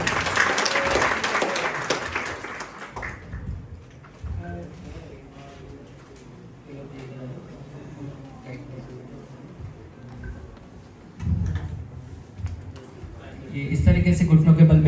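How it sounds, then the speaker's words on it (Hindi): A workshop audience in a hotel gives the presenter of a CPR and snakebite training session a brief burst of applause, which gives way to talking and then returns faintly near the end. "सर के लिए जोरदार तालियां"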